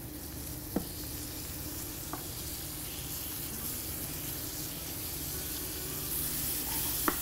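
Spice paste sautéing in a hot pan gives a steady broad sizzle throughout, broken by a few faint clicks of a stirring utensil, no voices.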